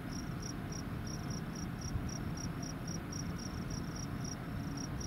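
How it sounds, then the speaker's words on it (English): Cricket chirping steadily in a regular rhythm of short, evenly spaced pulses, close and continuous over a constant low rumble, recorded on a trip to Yellowstone. "The cricket is annoying."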